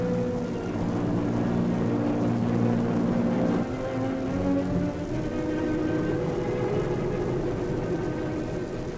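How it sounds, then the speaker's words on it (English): German reconnaissance planes of 1939 taking off, a continuous loud propeller-engine drone that holds steady and then shifts slightly in pitch as the aircraft power up. "First reconnaissance planes go aloft to secure valuable photographic data."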